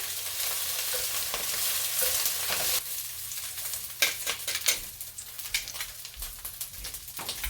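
Greens stirred around in a hot pan as they wilt, a continuous close sizzle with intermittent scraping and tossing strokes that grow choppier in the second half, with no voices.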